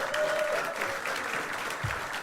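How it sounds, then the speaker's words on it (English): An audience at a live comedy gong show applauds for the MC, a brief dense patter of clapping that holds steady at moderate loudness throughout. "Give a round of applause for your MC, Gill, up the front there."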